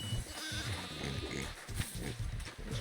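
Sheep bleating from livestock in Moving Out 2, several short nasal calls repeating over steady game music and background clutter, fairly close and moderately loud throughout.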